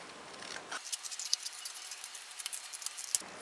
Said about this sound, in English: We are cutting the fin.